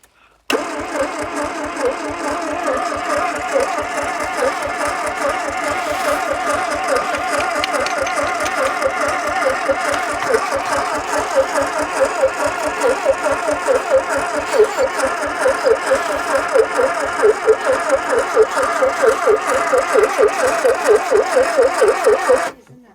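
An 80s classic barn-find car with a fuel leak runs steadily after starting, its loud, close engine chugging in an even rhythm for the whole stretch before cutting off abruptly.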